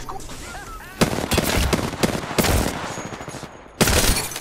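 Rapid bursts of automatic weapon fire in the battle royale game Apex Legends, several clusters of sharp shots with short gaps and a final loud burst, with faint chirpy effects early on.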